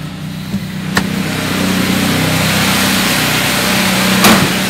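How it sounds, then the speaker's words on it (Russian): A carburetor car engine runs on LPG gas, a steady close mechanical hum at idle with a couple of sharp clicks over it. "теперь у нас машина работает на газу"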